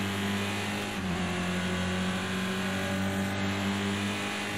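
Race car engine in the video game Project Cars 2 on the Nürburgring, a loud steady drone held at a constant pitch throughout, with no talk over it.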